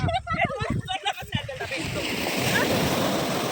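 Sea waves splash and slosh against a boat crossing open water toward an island, with voices talking over the first half before a steady rush of spray and water takes over.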